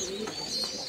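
A brief, close coo from native breed pet pigeons, a soft rising and falling call heard alone with faint background hiss.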